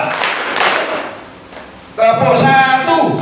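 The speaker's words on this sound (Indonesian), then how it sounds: "Tepuk dua" Two sharp hand claps ring out in a clapping game during an anti-bullying school session, followed by voices talking.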